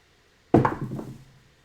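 Dice thrown on a casino craps table land with a single sharp clatter, followed by a short rattling tumble and quick fade in a quiet room.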